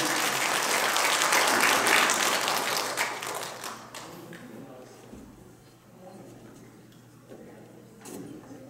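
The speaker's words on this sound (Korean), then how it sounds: "박수, 큰 박수, 큰 박수." Applause rises from the audience at a commissioning ceremony, loud and full for the first few seconds, then thinning to scattered claps and faint room sounds.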